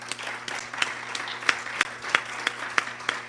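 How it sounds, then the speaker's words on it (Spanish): Audience at an international academic symposium applauding, a steady wash of many hands clapping with sharp individual claps popping out, moderately close and continuous with no talk over it. "pido fuertes aplausos"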